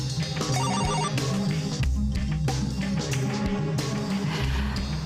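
A mobile phone rings at an important event, its electronic ringtone melody repeating continuously and fairly loud, with no talking over it.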